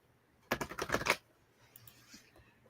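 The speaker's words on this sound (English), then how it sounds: "Let me give one more shuffle here." Tarot cards being shuffled during a paranormal show reading: a quick burst of crisp riffling and flicking lasting about half a second, fairly close, followed by a faint soft rustle.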